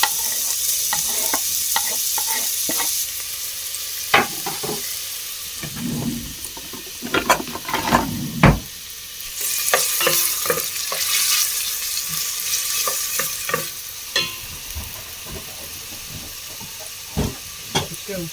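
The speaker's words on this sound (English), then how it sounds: "in the pan I've got 2 tablespoons of olive oil, and I'm just adding the onions" Onions frying in two tablespoons of olive oil in a pan, a steady close sizzle with scattered stirring clicks and scrapes running throughout, with no talking.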